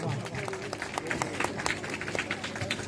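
Audience clapping at a Ramlila folk performance in Haldukhal, a scattered crackle of hand claps from a moderately sized crowd, fairly faint and under a voice speaking.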